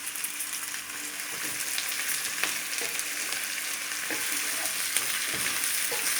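Cauliflower and potato pieces sauté in a pan for a stew, giving a dense, even sizzle across the whole stretch with a few faint stirring knocks underneath, close by with no voices.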